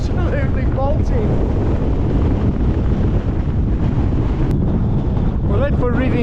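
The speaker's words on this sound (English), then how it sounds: "that wind's coming right out the southeast and it is absolutely bolting." Strong, gusty wind buffets the microphone on an exposed fell hilltop near Sale Fell in the Lake District, blowing hard from the southeast as a loud, continuous roar with brief quieter dips.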